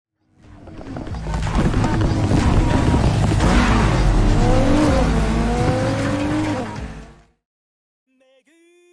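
Racing cars in the Need for Speed Heat video game roar loudly for about seven seconds, engines revving with rising and falling pitch amid tire squeal and skids, then cut to near silence with a brief faint tone at the end.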